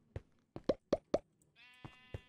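Sheep bleating on a Minecraft sheep farm in the video game, several short bleats in quick succession, fairly close, followed by a brief tonal chime and two more bleats, with no talking.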